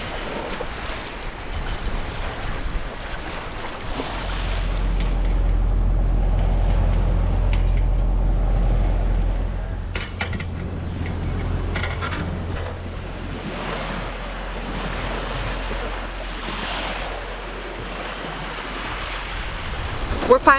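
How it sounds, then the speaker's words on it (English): Waves wash against the hull of a sailboat under way on the open ocean during a first ocean crossing, with a steady rushing swell and low wind rumble that surges louder midway, then settles. "We're finally sailing, which is awesome."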